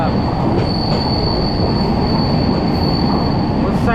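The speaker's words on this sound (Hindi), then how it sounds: "उस साइड में रोड, बीच में मेट्रो और हम लोग की संपर्क क्रांति एक्सप्रेस, वेस्ट बंगाल संपर्क क्रांति।" The West Bengal Sampark Kranti Express rolls through Dum Dum Junction, a loud, steady rumble of wheels and carriages with a high metallic squeal running over it for the whole stretch.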